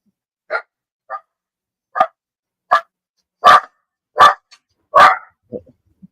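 A puppy barks close by in a quiet room, about nine sharp, separate barks at uneven intervals that grow louder toward the middle and then trail off into a few softer yips.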